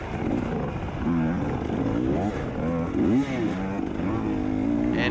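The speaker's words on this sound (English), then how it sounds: "I think I revved my bike at him." A motorcycle engine revs up and down in rising and falling pitches during an off-road race at OTT Ranch, fairly close and loud, with wind noise throughout.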